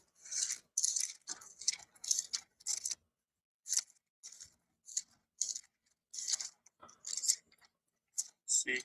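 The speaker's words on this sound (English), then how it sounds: "Paper turns." Paper pages turn in a quiet room, producing a series of short, dry rustling bursts at an irregular pace.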